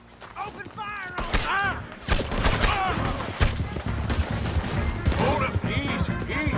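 A loud, chaotic Red Dead Redemption 2 gunfight with repeated shots and crashing impacts, mixed with voices and horse sounds throughout.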